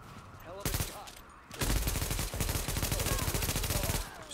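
Sniper and automatic gunfire in The Division during a firefight at the Queens Tunnel camp: a sharp report near the start, then a sustained, loud burst of rapid shots with dense echoing crackle that keeps going to the end.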